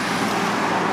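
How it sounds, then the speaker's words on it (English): Cars and trucks roll past on a busy road beside the Delaware River in New Jersey, a loud, continuous rumble of close traffic. "cars and trucks are so loud here"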